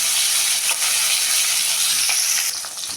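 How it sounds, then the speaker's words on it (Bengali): Pieces of katla fish fry in hot oil, making a loud, dense, continuous sizzle that eases slightly toward the end. "তেলটা গরম হয়ে গেছে, মাছটা দিয়ে দিলাম, ভেজে নেব মাছটা।"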